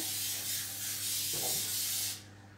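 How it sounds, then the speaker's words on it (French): An aerosol can of grease sprays a cake mould in one steady, close hiss lasting about two seconds, then cuts off, with no talking. "Moi j'utilise une bombe que j'ai achetée chez Audio, c'est de la graisse."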